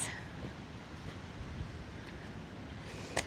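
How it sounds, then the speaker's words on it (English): Surf washing onto a beach during a nature walk, a steady broadband rush of waves with some wind, fairly distant and even throughout, with no talking. "you can hear the waves"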